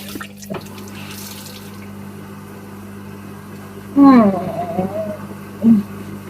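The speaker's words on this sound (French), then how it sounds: "je vais rincer mon masque" Tap water runs steadily as a face mask is rinsed under it, with a low hum in the background and a couple of brief vocal sounds near the end.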